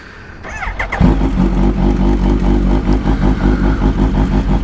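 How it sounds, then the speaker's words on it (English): A motorcycle engine cranks and catches after about a second, then settles into a loud, steady, close-up rumbling idle with a pulsing beat. "perfect time to take the bike out for a little ride. So let's get her started up."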